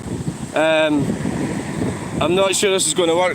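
Gusty wind blows across an outdoor microphone, a steady low rumble and buffeting that runs under a woman's speech throughout.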